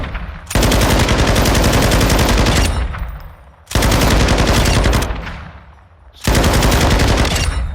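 Bursts of rapid automatic gunfire from a long-range weapon in a first-person shooter game, three sustained loud volleys separated by short pauses, close and heavy.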